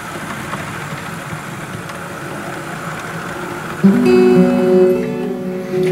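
A Southern Pacific model train locomotive running on track hums steadily, and a louder tonal engine whine swells in near the end.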